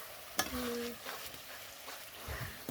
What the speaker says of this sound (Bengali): সাইডটা একটু ভালো করে নাড়া।